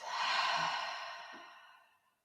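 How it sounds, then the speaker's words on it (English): Breath leaving the mouth in a relaxed breathing exercise: one long, close sigh-like exhale, strongest at the start and fading out over about two seconds, alone without speech. "And the sound of your breath leaving your mouth."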